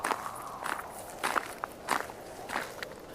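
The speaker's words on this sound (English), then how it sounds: "Like footsteps on wet gravel." Footsteps crunching on wet gravel, four or five slow, evenly spaced steps at moderate distance, faint and alone against a quiet rainy background.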